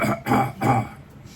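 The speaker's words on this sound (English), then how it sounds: "Clear your throat." Two short, rough throat-clearing bursts in quick succession, close and fairly soft, then quiet.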